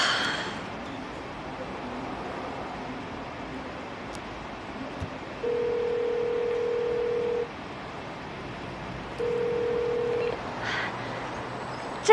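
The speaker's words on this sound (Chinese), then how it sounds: "我还没有联系上他，我一会儿再给他打个电话吧。" A telephone line tone sounds in two steady beeps, each about two seconds long, over a faint, hissy room background while a call is being placed.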